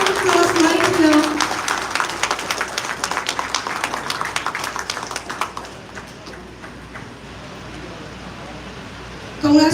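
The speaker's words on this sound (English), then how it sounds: "And a massive round of applause right here." Audience applause at an office inauguration, a loud burst of many hands clapping that thins into scattered claps and fades out over several seconds, with a brief swell of sound at the very end.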